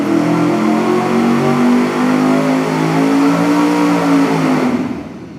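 A dyno-test engine revs through a crimped Summit turbo muffler with a loud, close, sustained roar and steady rising harmonics for about five seconds, then cuts off abruptly and fades.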